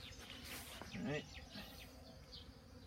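A bee buzzes close by as it tries to crawl into a hive entrance hole during a vaporizer treatment, its drone steady under a short spoken remark and background hum.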